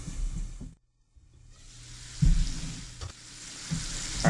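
Freshly caught and cleaned fish frying in a pan, a steady close sizzle that dips to near silence briefly, then returns with bursts of crackling and occasional clatters of the pan.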